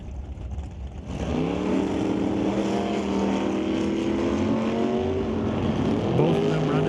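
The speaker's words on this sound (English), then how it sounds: "Steve Veach in the left lane in the 72 Plymouth, racing against John Lackey in the 66 Acadian." A 1972 Plymouth and a 1966 Acadian drag race side by side, engines roaring loud and sustained as they pull hard down the strip, pitch climbing steadily through the run.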